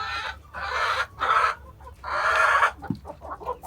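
Several young chickens, including Leghorns, cluck and squawk nearby in uneven bursts, with brief quiet gaps between calls and no talking.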